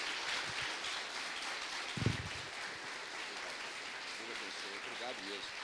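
Congregation applause during a church's ninth-anniversary worship service fills the room as a steady, faint wash of clapping, with a voice talking over it near the end.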